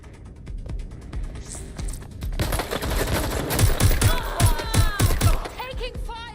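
Bursts of automatic gunfire in Watch Dogs Legion, rapid repeated shots building into a dense, loud volley with metallic clatter and a few sharper individual cracks toward the end.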